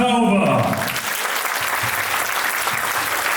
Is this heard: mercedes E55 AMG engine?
no